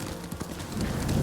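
Horse hooves clip-clopping in Ghost of Tsushima, a steady close trot over rough terrain at low level, briefly and without talk.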